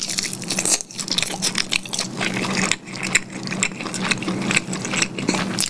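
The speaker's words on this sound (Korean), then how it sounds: "잠깐만 한입 더 먹어볼게" Someone bites into a KFC grilled chicken drumstick and chews up close, giving soft, repeated crunchy and wet eating sounds with a steady low hum behind them.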